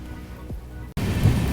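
Rain falls on the leaves of a tea garden, heard as a sudden dense hiss and patter that cuts in partway through after a quieter, rumbling stretch.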